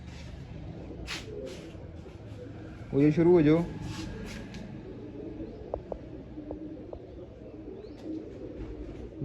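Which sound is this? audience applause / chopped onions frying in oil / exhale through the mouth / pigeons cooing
pigeons cooing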